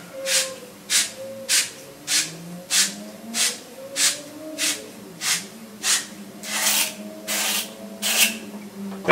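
A pipe cleaner brush scrubbing the inside of a copper pipe, about a dozen evenly spaced, close rasping strokes with a hissing, scratchy texture, rhythmic and steady with no talking.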